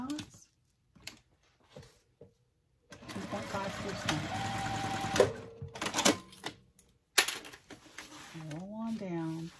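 A sewing machine stitches a tote bag seam in short bursts of rapid mechanical whirring, with clicks and handling noises between runs and a person speaking at the start and end.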